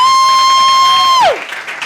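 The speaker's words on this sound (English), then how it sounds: "please give a round of applause to all of our readers and all of our performers tonight" Applause and cheering from a live audience at a college writing center reading night, loud and close, breaking out and then scattering after a sustained electronic tone drops away.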